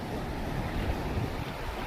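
Sea waves surge against a boat during fishing at sea, a steady rough wash of water and wind noise close to the microphone.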